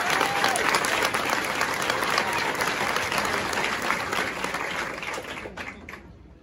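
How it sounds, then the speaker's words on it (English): An audience at a U.S. Army turning blue ceremony for 29th Infantry Regiment soldiers at Fort Benning breaks into loud, sustained applause that gradually fades over several seconds; some voices can be heard within the crowd. "please give the awardees another round of applause"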